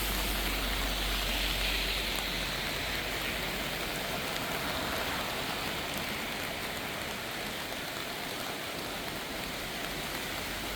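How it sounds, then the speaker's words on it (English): Heavy rain from Hurricane Helene pours steadily in the Smoky Mountains, a dense, unbroken hiss of rainfall on surfaces that stays loud and even throughout, with no voices. "Nobody's braving the rain."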